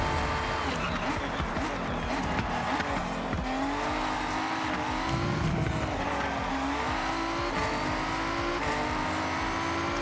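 A race car in the Forza Horizon 6 video game runs a flying lap, with a loud, continuous engine drone that rises and falls through gear changes and tire squeal, and a voice talking over it.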